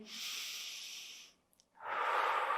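A breath during a Pilates abdominal stretch: a long airy breath, a brief quiet pause, then another long breath, close and soft with no talking.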